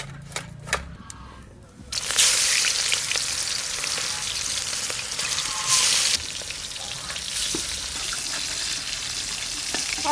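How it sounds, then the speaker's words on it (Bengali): Pieces of chala sea fish drop into hot oil after a few faint knocks, setting off a sudden loud, dense sizzle that keeps going steadily with occasional crackles. "অল্প অল্প করে ভেজে নেব"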